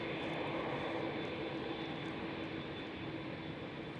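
A KLM Cityhopper Embraer E195-E2 jet departs Schiphol, its steady broadband engine roar holding at a moderate, somewhat distant level throughout without any voices.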